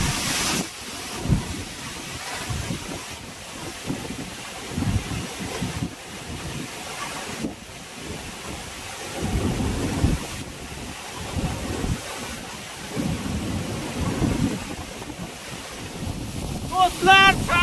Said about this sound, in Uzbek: Do'stlar, sharsharani tagida hozir sharsharani suvlari urilib, juda ham ajoyib manzarani guvohi bo'lmoqdaman